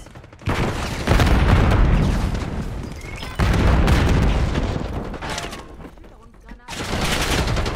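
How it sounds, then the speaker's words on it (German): A flashbang grenade goes off during a Call of Duty Black Ops 6 Team Deathmatch match, loud percussive blasts and rattling gunfire arriving in three heavy bursts separated by brief quieter gaps. "Schmeiße Blendgranate."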